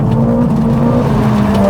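Mercedes-AMG CLA 45s engine held at steady high revs during a drift, a loud continuous close-up drone with a sustained tone and no talk.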